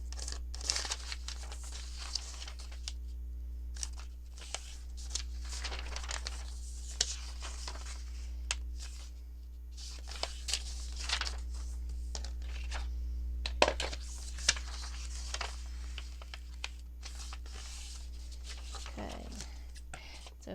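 Paper being folded and cut into pockets for a junk journal, with soft crinkles, scrapes and snips scattered over a steady low hum, faint and close.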